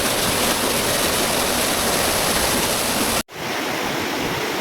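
The second falls of Marilag Falls (Three Falls) pour in a dense, unbroken roar close by that cuts out for a split second and then resumes a little quieter, with no voices.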